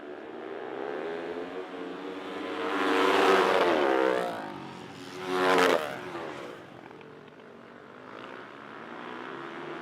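Dirt bike engines, a Kawasaki among them, race around a TT track, swelling twice as they pass close and then fading into a distant drone.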